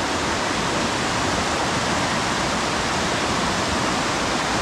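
The Cormaia mountain river in Romania's Rodna Mountains rushes in a dense, steady, loud roar of flowing water, with no break or other sound.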